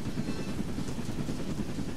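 A drone in the Roblox Jailbreak video game gives off a steady, helicopter-like rotor whir, loud and continuous throughout with no speech over it.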